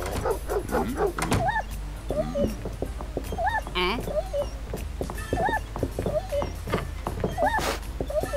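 Max, the neighbour's dog in the video game Neighbours from Hell, gives short yips and whimpering barks repeated at intervals, moderately loud over a steady game background and mixed with other brief cartoon sound effects.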